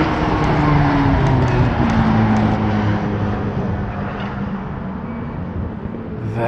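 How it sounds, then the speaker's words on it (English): A turbocharged car drives on a race track at a track day, its engine droning loudly with shifting tonal lines that slowly fade as it moves away. "Dude, that turbo sounds crazy!"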